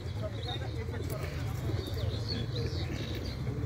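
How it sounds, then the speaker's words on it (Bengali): Thirsty pigeons unloaded from a transport vehicle at Inani beach, Cox's Bazar, drink water and give low, soft coos with a few faint chirps. Quiet human talk and outdoor background noise run underneath. "কবুতরগুলো পানি খাচ্ছে, অনেক তৃষ্ণা তাদের"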